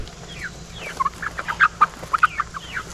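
Chickens clucking in a quick scattered series, several short calls overlapping at moderate distance over a low steady background hum.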